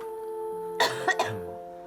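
A few short, sharp coughs in quick succession from a woman with a cold, close by, over a steady low hum with no talking.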